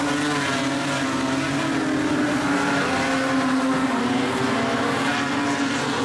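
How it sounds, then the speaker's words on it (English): Modified sedans racing at Kingaroy Speedway, including a VS, with a loud, continuous roar of several engines at full throttle throughout, steady and close with no pauses. "Look at Pascoe wind up the VS coming on the top tonight."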